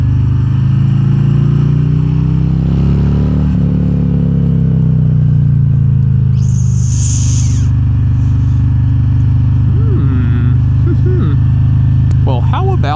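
A 2022 Harley-Davidson Road Glide Special cruises along, its deep engine drone steady and loud, rising and shifting pitch as it rides through curves.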